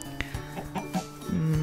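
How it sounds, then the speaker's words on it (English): Chicken clucking in Minecraft, a few short clucks in quick succession, close and clear, ending in a longer sustained tone. "Chickens."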